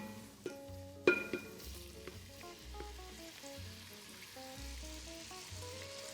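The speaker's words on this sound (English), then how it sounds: "So now we're gonna add our soffritto that we chopped up earlier." Chopped soffritto hits a pan of browned pancetta on a portable burner, a sudden clatter followed by a steady, close, moderately quiet sizzle that continues evenly, with no voices.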